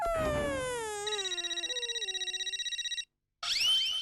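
A phone rings with a call from Mehta: a loud, melodic electronic ringtone that slides down, then pulses in quick, steady beats before cutting off abruptly, followed by a brief burst of other sound.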